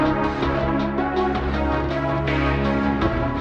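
Dark orchestral spy-thriller score from Captain America: The Winter Soldier, dense sustained strings and brass with low rhythmic pulses, loud and continuous with no voices.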